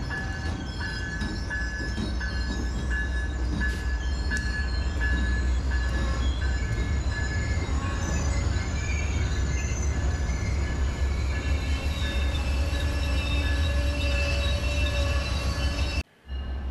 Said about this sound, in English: Here we see the arrival of Amtrak's Heartland Express, a daily train from Oklahoma City to Fort Worth.